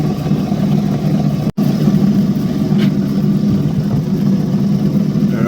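A lapidary grinding wheel shapes a Coober Pedy crystal opal, its motor producing a continuous low, even hum with faint grinding texture throughout. A brief dropout occurs early on, and there is no talk.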